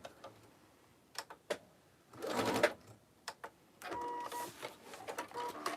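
A sewing machine stitches the lining of a tote bag in two short runs of rapid mechanical whirring, separated by scattered clicks and taps of handling.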